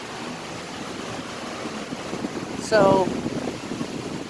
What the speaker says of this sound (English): We have lots of wind right now.